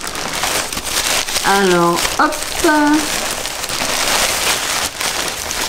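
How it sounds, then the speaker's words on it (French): A plastic shopping bag is handled close by, crinkling and rustling steadily throughout while someone speaks briefly over the noise. "Je suis désolée pour le bruit que je fais avec le sac."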